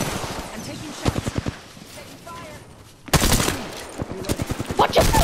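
Rapid video-game gunfire in loud bursts, a quick volley early on and a denser, heavier stretch of repeated shots in the second half, with players talking over the action.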